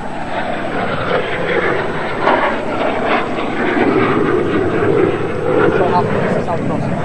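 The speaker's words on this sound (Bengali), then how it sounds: "আপনারা প্রত্যক্ষ করলেন F-7BG যুদ্ধ বিমানের একটি role of the top aerobatics" An F-7BG fighter jet roars overhead while performing a roll-off-the-top aerobatic manoeuvre at a Victory Day parade, a loud, sustained engine rumble with a public-address voice talking over it throughout.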